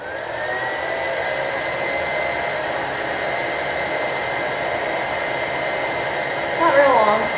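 A hair dryer blows steadily at close range in a bathroom to dry and curl freshly coated eyelashes, a loud continuous whooshing roar that shifts slightly in pitch near the end.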